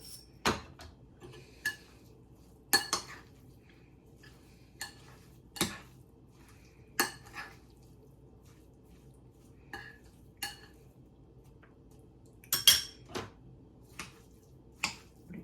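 A spoon stirring couscous salad in a bowl: sparse, faint clinks and taps scattered at irregular intervals over a quiet background, close by with no voices.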